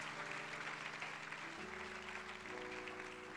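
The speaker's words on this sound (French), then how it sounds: "clap unto the Lord for His notice" A church congregation claps together for the Lord in a dense, steady wash of applause throughout, with sustained tones from a keyboard or organ running beneath it.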